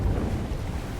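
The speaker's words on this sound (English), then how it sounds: "one last massive wave of water comes crashing down, sweeping you up in a powerful current" A massive wave of water crashes down in the video game Slay the Princess, a loud, steady low roar of rushing, churning flood water that stays heavy for the whole moment with no voices.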